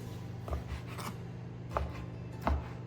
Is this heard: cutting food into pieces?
yes